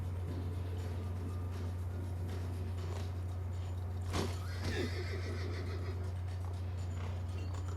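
A horse in Assassin's Creed 2 whinnies faintly under a steady low game hum, with a short burst of scuffling action midway.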